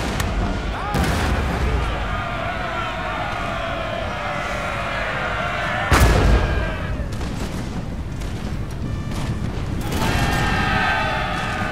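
Cannons fire canister shot in a Napoleon: Total War battle in Egypt, loud booming blasts near 1 and 6 seconds over a continuous roar of battle noise and scattered gunfire.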